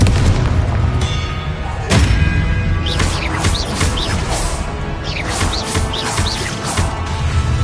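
Confringo blasting spell explosions in the Hogwarts Legacy video game, loud booming blasts with sharp impacts near 2 s amid dense continuous battle noise and bright crackling effects.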